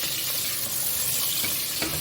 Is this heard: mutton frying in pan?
yes